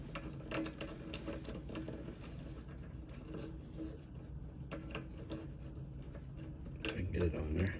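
A ratchet tightens a clamp on an air compressor's power cord, giving quick repeated mechanical clicking in short bursts, close and moderately loud, with a louder grinding flurry at the end.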